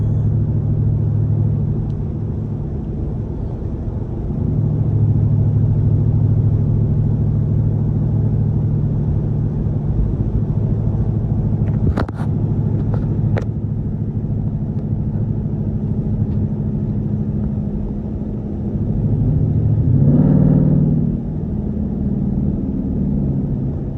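Straight-piped Jeep exhaust drones steadily while cruising in econ mode, a loud, continuous low rumble that swells slightly a few times and carries on alone without talk.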